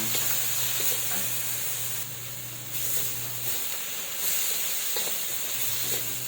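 Pork sautéing in a pan for pinakbet, a steady loud sizzle and hiss throughout with faint stirring clinks, close up and alone without talk.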